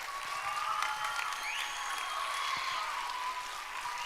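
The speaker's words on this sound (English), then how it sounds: "Big round of applause for all of them." An audience at an arts council awards event claps for trophy winners, a steady, moderately distant patter of applause holding evenly throughout.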